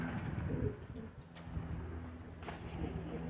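A Spanish pouter pigeon coos at close range, a series of low, throaty, rolling calls with faint background noise.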